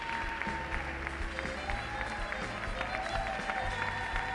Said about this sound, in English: The judges applauding their performance